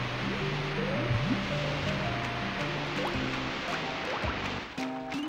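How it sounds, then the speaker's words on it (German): Game water swells and rises in a Banjo-Kazooie level, a steady bubbling, dripping wash that fills the whole clip, with musical tones running underneath and no voices. "Oh, das Wasser steigt."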